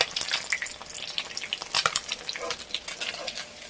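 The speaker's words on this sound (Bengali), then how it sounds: "আমাদের মাছ ভাজা প্রায় হয়ে গেছে" Fish pieces frying in hot oil, a close crackling sizzle with irregular popping spatters over a few seconds.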